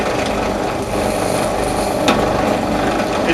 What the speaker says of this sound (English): just drill a hole in the top of the lid